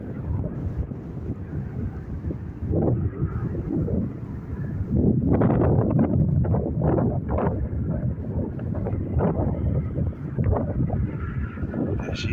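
An airliner taking off from Dublin Airport roars at a distance, its broad jet rumble swelling midway and staying strong, mixed with gusty wind buffeting the microphone.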